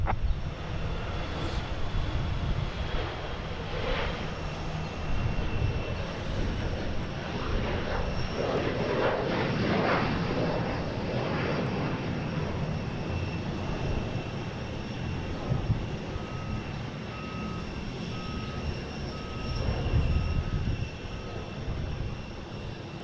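A jet airliner lands at Boston Logan International Airport, its engines giving a broad, steady roar from a distance that swells and holds across the whole stretch.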